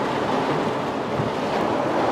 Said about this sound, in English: Wow, it is just pouring over. Look at all this water.